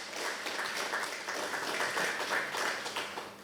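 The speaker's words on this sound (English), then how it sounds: "ought to give yourself a round of applause for that" Faint, steady applause from a crowd, continuous clapping that stays level throughout, somewhat distant.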